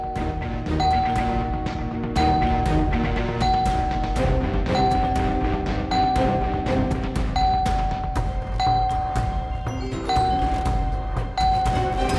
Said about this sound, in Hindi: ऐसे कौन बेल बजाता है?